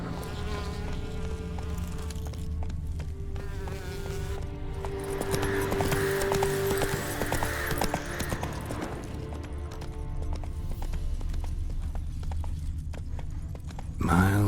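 Roach, the horse in The Witcher 3 video game, trots with steady clip-clop hoofbeats over a dense layer of music and ambient buzzing, with a louder thump near the end.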